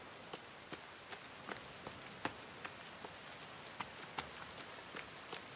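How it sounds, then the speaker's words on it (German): Rain falls steadily in The Forest video game, a soft continuous patter with scattered sharper drops ticking irregularly on surfaces, faint and even throughout. "Die Regengötter kommen."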